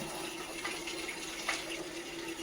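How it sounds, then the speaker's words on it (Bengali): Water is poured or sprayed onto a freshly plastered wall by a house gate, giving a steady, moderately loud hiss and splash that runs without a break, with no voices. "তুমি এই ওয়ালটায় আরেকবার জল দাও"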